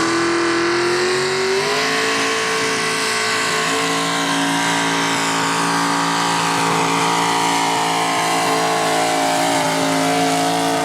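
A mini rod tractor puller in the A mini class, a big-horsepower methanol-burning motor, roars loud and close, its engine pitch climbing sharply at first and then holding a sustained, strained high rev.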